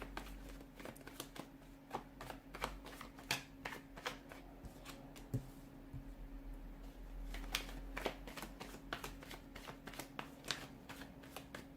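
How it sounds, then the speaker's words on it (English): Tarot cards are shuffled by hand close up, a steady run of quick papery riffles and soft slaps repeating throughout, fairly quiet over a faint low hum. "let's give the cards a shuffle and let's begin"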